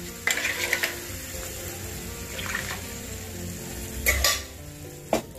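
Oil sizzles steadily in a pan while a spoon scrapes and stirs masala in a few short bursts, close by, with no voices.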